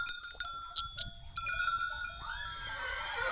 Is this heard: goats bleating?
yes